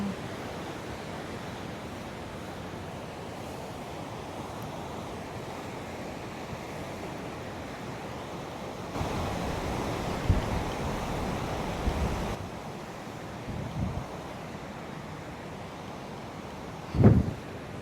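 The fast-flowing Alaknanda river rushes near the Keshav Prayag confluence in a steady, dense roar of water that swells louder midway, with a brief sharp knock near the end.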